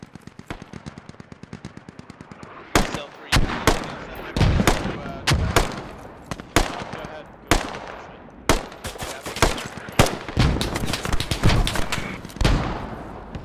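Machine gun fire from a Squad match crackles in short bursts and single shots, loud and close, with thumps and distant gunfire between the bursts.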